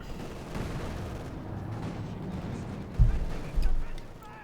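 Tank cannon fire from a WWII real-time strategy battle in Company of Heroes 2, a continuous rumble of distant combat with two heavy low booms near the end, the second longer and rolling.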